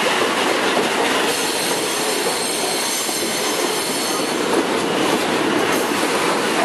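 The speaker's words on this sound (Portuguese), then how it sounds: "que está com a dupla de C30 da Rumo, puxando lá para o terminal da Bracel, aqui na região do Valongo," Freight train hauled by two Rumo C30 locomotives near the Bracell terminal in Valongo, Santos, passing close by with a loud continuous roar, squealing wheels and clattering wagons, no speech.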